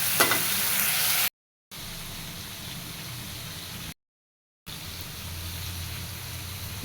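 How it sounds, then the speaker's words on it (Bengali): Bengali egg curry masala paste frying in oil until the oil separates, a dense steady sizzle heard close and alone, broken by two short silent gaps. "মশলা সুন্দর মতো কষা হয়ে গেছে। মশলা থেকে তেল ছেড়ে দিছে।"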